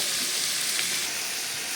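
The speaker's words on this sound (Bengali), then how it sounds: "এটাকে বেশ খানিক্ষণ নাড়াচাড়া করবো একটু ভাজা ভাজা করে নেব" Taro and chicken pieces sizzle steadily in hot oil in a pan, a dense, even frying hiss held throughout, close and fairly loud with no voice over it.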